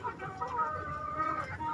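Hens clucking on an Indonesian poultry farm where breeding hens and a rooster are kept, a steady low chatter of several birds with a few higher drawn-out calls, close and continuous.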